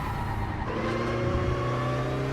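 Race car engine in RaceRoom Racing Experience, droning steadily at high revs with wavering pitch as the car slips and loses grip, loud and continuous with no talking.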